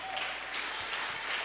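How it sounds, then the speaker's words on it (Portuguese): Brief, steady clapping from a congregation during a church service, moderately loud and continuous for a moment. "Mais aplausos"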